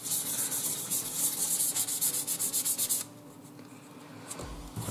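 A fine-grit sanding pad rubs across a plastic model surface in quick, rhythmic back-and-forth strokes with a bright, squeaky rasp. The strokes stop abruptly after about three seconds, leaving quiet room tone. No one speaks.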